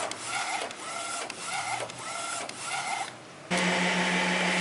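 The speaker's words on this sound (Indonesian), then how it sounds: "Saya biasa nyalakan vakumnya kalau sudah menutup semua rongga-rongga" A vacuum pump on a printer during a powder printing test kicks in with a steady, loud hum after several rhythmic back-and-forth print-carriage passes.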